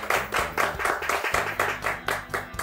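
A small studio audience on a Turkish cooking competition show claps in an uneven rhythm, close and fairly loud, with a steady low hum running underneath.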